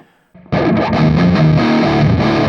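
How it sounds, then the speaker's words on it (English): A heavily distorted electric guitar through a Mesa Boogie Dual Rectifier amp model kicks in loud after a brief soft note, playing thick, saturated high-gain chords that ring out continuously. "There's your Mesa Boogie dual rectifier."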